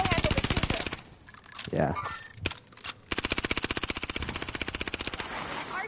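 Video game gunfire in rapid automatic bursts, loud and close, broken by a short pause with a brief spoken word and a swooping effect before the firing resumes steadily.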